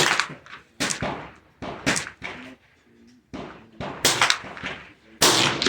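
A 16-inch chrome-lined rifle fires on a 200-yard range, giving a series of loud, sharp gunshots spaced irregularly, each with a brief echoing tail, some close together and a final heavy blast at the end.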